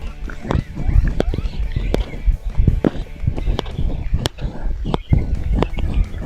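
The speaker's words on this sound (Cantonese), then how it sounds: "唔知大家聽唔聽到啲雀仔聲？" Birds chirp faintly in the background while footsteps crunch steadily along a wet hiking trail near North East 3 Villages in Hong Kong, with brief voices mixed in.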